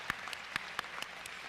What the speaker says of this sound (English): yes, we're going to clap